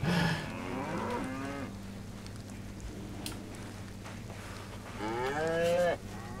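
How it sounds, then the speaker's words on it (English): A cow in the snowy winter setting of the survival video game DayZ lets out two long, drawn-out moos, one at the start and one near the end, with quiet between. "I'm gonna spend all my time chasing this cow."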